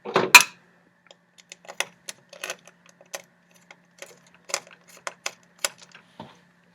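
Screws are driven into a bracket on an umbrella rib light fixture, giving a sparse series of light metallic clicks and ticks, quiet and irregular, after an initial louder clatter.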